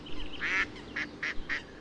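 Ducks on partly frozen water give a run of nasal honking calls, one long call followed by four shorter evenly spaced ones, moderately close with no talk.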